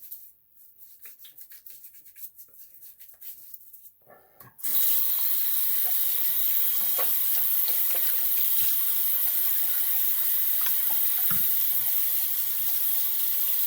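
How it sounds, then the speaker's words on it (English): Running tap water pours steadily into a sink as a double-edge safety razor, a Gillette Silver Blue blade, is rinsed, a loud close hiss lasting about nine seconds after some quieter rustling and handling. "All right, let me rinse it off."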